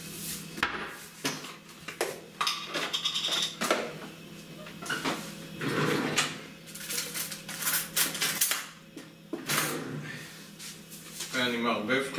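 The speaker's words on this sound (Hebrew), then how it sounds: "ואני מערבב קלות בעדינות, לא לפגוע במרקם של התותים" A spoon gently stirs fresh strawberries with a teaspoon of sugar in a small bowl, giving soft clinks and scrapes against the dish while someone talks over it throughout.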